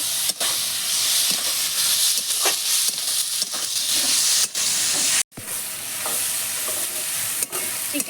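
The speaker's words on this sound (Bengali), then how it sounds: "এবার মাংসের সঙ্গে এই পেঁয়াজ, আদা, রসুন, মশলা সব ভালো করে কষিয়ে নেব" Chicken is sautéed with onion, ginger, garlic and spices in a pan, a loud close hiss and sizzle carrying on steadily with occasional spatula scrapes and a sharp clunk partway through, no speech.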